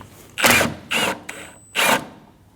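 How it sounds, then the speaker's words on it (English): A T30 bit driving out an AC condenser bolt on a Volkswagen Passat, three or four short whirring bursts of a power driver with pauses between them. "Using a T30 bit, we're going to go through this hole. And we're going to remove the bolt for the AC condenser."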